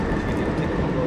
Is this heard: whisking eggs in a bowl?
no